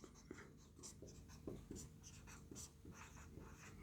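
Pen handwriting on paper during a physics lesson: quiet, steady scratching strokes in short bursts, close and faint, with no talk.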